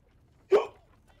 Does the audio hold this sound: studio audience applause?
no